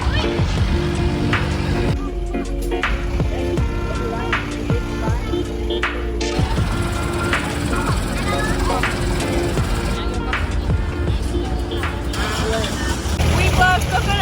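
Boats crowding a Bangkok floating market, steady engine hum and water sloshing amid busy, continuous outdoor market noise, with people talking throughout.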